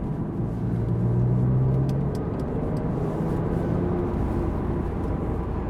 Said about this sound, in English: The sports chassis is switched on now and sports exhaust turned on